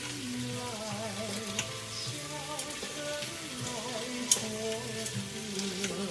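Chicken wings fry in their own skin fat without added oil in a Noxxa pressure cooker, giving a soft, steady crackling sizzle with occasional pops, mixed under background music.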